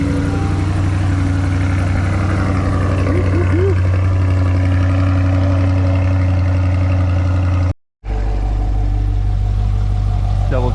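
A 2020 Chevrolet Corvette C8 Z51 with a rebuilt engine idles steadily after its first start, a loud, even low rumble with a brief dropout near the end, running on with exhaust modes switched.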